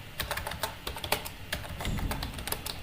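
Typing on a computer keyboard while entering HTML heading tags: quick, light, irregular key clicks in short bursts with brief gaps, close and fairly quiet.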